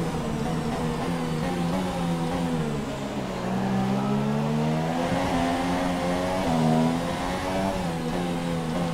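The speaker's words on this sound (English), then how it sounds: "It's a McLaren who are lapping right now" Engine of a McLaren Formula 1 car in the F1 2017 racing game, running at the Azerbaijan Grand Prix, a loud, continuous high-revving whine that rises and falls in pitch as it upshifts and brakes, with no talk over it.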